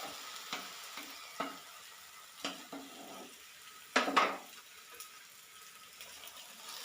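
Breakfast food is flipped in a frying pan: a low sizzle sits under a series of soft utensil scrapes and taps, with one louder clatter near the middle.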